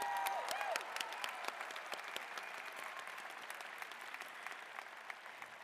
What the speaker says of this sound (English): Please join me in applauding these outstanding students.